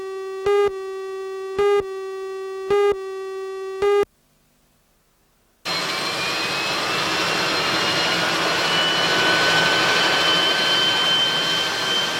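A de Havilland Twin Otter 100 series turboprop winds up its engines. Four evenly spaced electronic beeps come first, then a brief silence, then a loud, steady engine roar with thin whining tones that climb in pitch.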